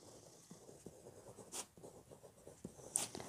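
A pen writes by hand on paper during a maths lesson, with soft, faint scratching strokes and two sharper scrapes against a quiet room.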